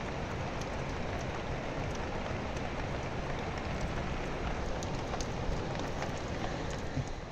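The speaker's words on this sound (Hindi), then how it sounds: "बाहर देखो, बारिश से बारिश लग रही।" Steady drizzling rain falls outdoors in the Madhyamaheshwar valley in the mountains, a continuous even patter with scattered nearer drops and no speech.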